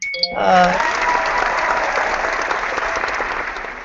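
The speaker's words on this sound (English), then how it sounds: "I had to give myself a round of applause there" Round of applause on a live-streamed hangout show after a game of hangman, starting with a brief ding-like tone, then sustained clapping at steady strength.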